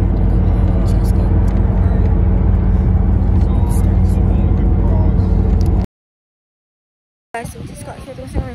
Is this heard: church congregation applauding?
no